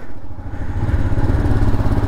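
A touring motorcycle, readied for a solo ride from Golaghat to Guwahati, runs steadily close by with a dense, rumbling low drone that builds slightly over the couple of seconds.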